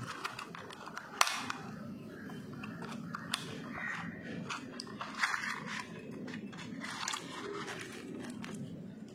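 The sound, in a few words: rattle of a fishing lure being shaken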